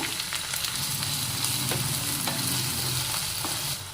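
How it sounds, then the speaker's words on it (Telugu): Thinly sliced onions fry in a pan for a small-onion tamarind gravy, giving a steady, close sizzle with occasional scraping stir strokes throughout. "ఇలా సన్నంగా కట్ చేసుకున్న ఉల్లిపాయని వేసేసుకుంటున్నాను"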